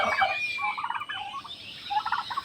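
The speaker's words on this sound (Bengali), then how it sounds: "3 মাস বয়সী টার্কি" A three-month-old turkey gobbles close by in a poultry yard, a quick rattling burst of gobbles, then a pause and a second, shorter run.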